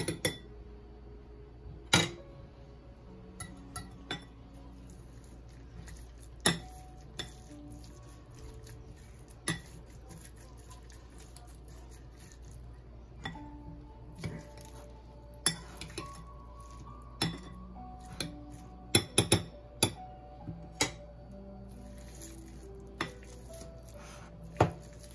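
A spoon clinks against a bowl while leftover cauliflower sabji is mixed, with scattered metallic taps and scrapes over a quiet room background, and no speech.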